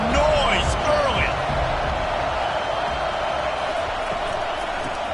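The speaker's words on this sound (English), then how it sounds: "This crowd bringing the energy and noise early." Loud, dense crowd roar fills a basketball arena throughout, steady and unbroken, with faint sneaker squeaks and the thump of a bouncing ball near the start.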